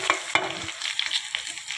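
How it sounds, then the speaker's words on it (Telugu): Dried red chillies are frying in hot oil with a continuous close sizzle and a couple of brief stirring scrapes. "సో ఈ ఎండుమిరపకాయలు అనేది ఈ నూనెలో వేసేసుకుందామండి ఆయిల్లో."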